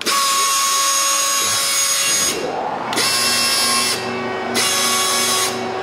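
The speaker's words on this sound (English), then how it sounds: "This machine does include your air ratchet," Air ratchet on a Taylor 10-section panel clamp machine runs loud and steady with a high whine, cutting off briefly about three times as it is switched between forward and reverse.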